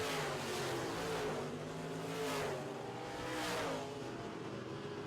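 Midwest Modified race cars in a heat race roar steadily together around the track, their engine note swelling loudly as cars sweep past in several waves before easing back to a continuous drone.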